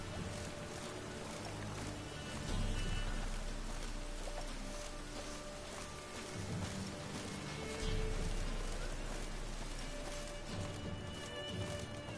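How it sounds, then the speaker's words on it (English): Rain falls in the Witcher 3 video game as a dense, steady hiss with low rumbling swells, heard alone under a game soundscape. "Rain again."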